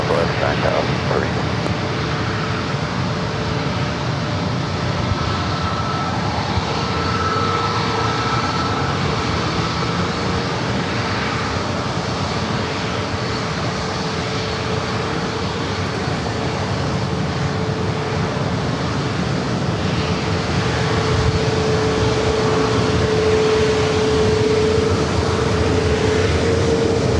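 A Southwest Airlines jet takes off from runway 27 at San Diego airport, its engines a steady, broad roar that holds loud and constant throughout, heard from a distance with a faint hum underneath.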